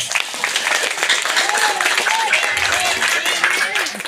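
Audience applause at a Maulid Nabi religious gathering in a residential complex, a dense steady wash of clapping from a crowd that holds for several seconds, with some voices and murmurs underneath.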